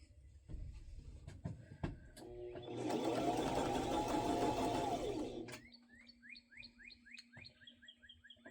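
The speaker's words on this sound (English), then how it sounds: "we're going to then sew this, and we're going to put it underneath the needle so you can see what I'm doing" A sewing machine starts with a few clicks and then stitches in a steady, close whirring run for about three seconds before stopping, with birds chirping in the background.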